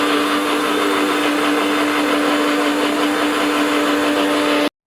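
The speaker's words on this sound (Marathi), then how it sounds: "मिक्सर मधून काढायला पेस्ट करायची जरा." A kitchen mixer grinder whirs loudly and steadily while grinding sprouted moong beans into a paste, its constant motor whine running close until it cuts off abruptly at the end.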